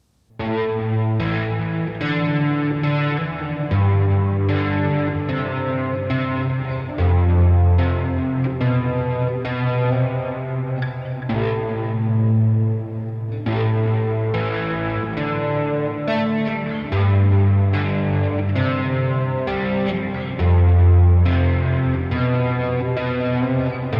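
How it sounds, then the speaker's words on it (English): ZOIA multi-effects pedal running distortion, delay, flanger and reverb produces a loud, sustained distorted chordal tone with sweeping flanger motion and echo tails, swelling in repeated phrases for about twenty-four seconds with no talking. "So I've just added a flanger and a reverb to the end of this."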